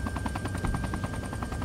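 A military helicopter in the ArmA video game drones with a steady, rapid rotor chop, loud and continuous, with no voices over it.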